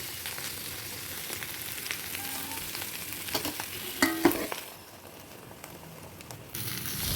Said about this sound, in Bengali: মাছ আমার দুদিকে খুব সুন্দর ভাজা হয়ে গেছে